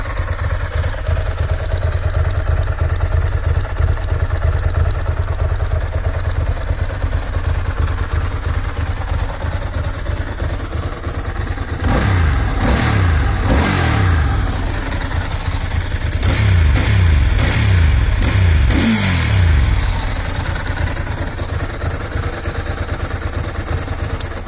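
A Ducati ST4 motorcycle engine idles with a steady, dry mechanical clatter, then revs sharply several times in two close clusters before settling back to idle, loud and near.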